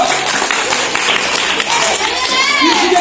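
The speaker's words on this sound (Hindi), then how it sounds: "तालियां बजाओ।" Applause rises from the crowd at a village prize distribution for Ganesh Chaturthi 2021 games in Limbi Chincholi, dense clapping blended with children chattering and lively background voices.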